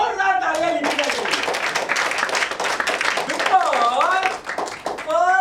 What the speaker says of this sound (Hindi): जोरदार तालियां लीजिए